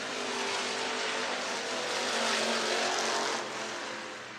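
IMCA Hobby Stock race cars roar around the dirt track at Kossuth County Speedway in Algona, Iowa, during a heat race: a dense, continuous engine drone from several cars at a distance that swells slightly and then eases off toward the end.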